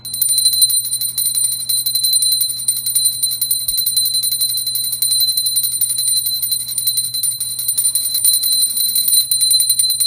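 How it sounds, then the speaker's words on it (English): A hand bell rung during a Hindu aarti ritual, giving a rapid, continuous high metallic ringing at a steady, loud level for the whole stretch, with a faint low hum beneath and no talking. "The challenge is getting used to holding the bell above the waist and ringing"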